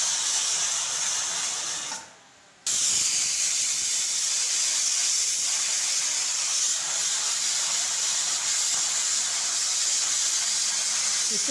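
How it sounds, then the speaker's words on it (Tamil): A pressure cooker holding bottle gourd and lentils lets off a long, loud continuous steam hiss through its whistle, broken only by a brief dip before resuming steadily. "விசில் வந்துடுச்சு நண்பர்களே."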